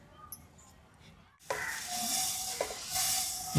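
Food being dry-roasted in a pan is stirred in a home kitchen, a soft rustle giving way abruptly to louder scraping and hissing with a few sharp clinks of the spoon, heard alone.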